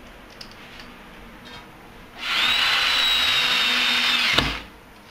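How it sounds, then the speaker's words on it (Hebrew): A power drill drives screws into a hidden wall bracket for an IKEA shelf: one sustained, loud whirring burst of about two seconds ending with a short clunk, set against a quiet room. "אנחנו יכולים להבריג את כל יתר הברגים בלי בעיה בכלל"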